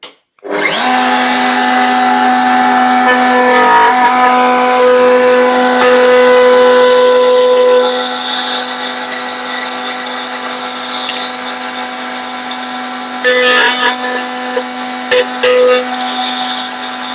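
Power tool cutting a piece of timber with a fence guide, a loud steady motorized whine with strong sustained tones running continuously for about seventeen seconds, close and alone, with slight shifts in pitch near the end.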